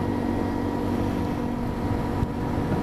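A 2017 Honda XR150 dirt bike, its 150cc four-stroke single-cylinder engine of about 12 horsepower breathing through the exhaust, idles or runs in a steady, low, even drone with no break.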